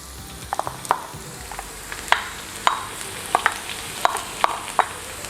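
Oil heats in a wok for a pork giniling stir fry, giving a soft sizzle under a string of sharp, uneven utensil clicks and scrapes against the pan, close and fairly loud.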